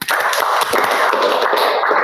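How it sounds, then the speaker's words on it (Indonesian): Children in a classroom clap their hands together, a dense, continuous, loud patter of many overlapping claps from the whole group, sustained without pause and with no voices over it. "Tepuk tangan untuk semuanya."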